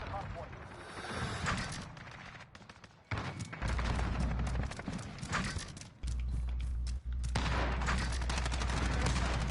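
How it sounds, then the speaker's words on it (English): A Kilo rifle in Modern Warfare fires from the hip in rapid bursts, loud cracking volleys that pause and resume, with speech and other game noise mixed in. "So hip firing with the kilo"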